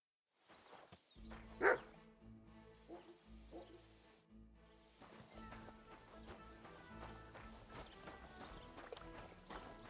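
A dog barks once, sharp and close, in the medieval world of the Kingdom Come: Deliverance 2 video game, followed by a few softer sounds over a quiet musical bed.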